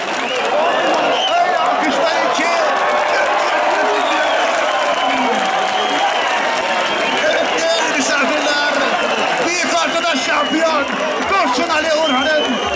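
A large outdoor crowd at a bull wrestling final in Kafkasör, Artvin, keeps up a dense wash of applause, cheering and chatter throughout, while a commentator talks loudly over it.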